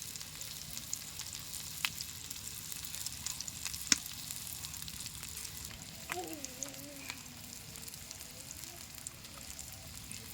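Pieces of rohu fish sizzle on a wide tawa over a low flame, a steady close crackle with a few sharp pops and a brief scrape of a utensil partway through.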